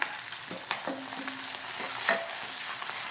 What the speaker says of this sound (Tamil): அதையும் நல்லா இது கூட சேர்த்து வதக்கிக்கோங்க